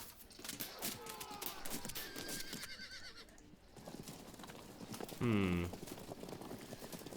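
Horses in the Field of Glory II video game, with rapid clip-clop hoofbeats throughout and one loud neigh near the end, mixed under a voice talking.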